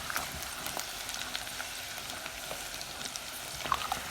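Prawns fry in hot oil for a crispy Bangladeshi Chinese-style dish, giving a soft, continuous sizzle with scattered crackles and pops, quiet and close, with no talking.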